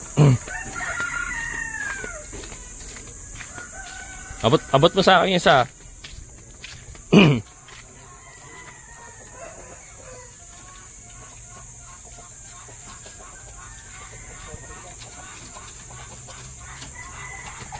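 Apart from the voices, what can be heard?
chickens clucking and crowing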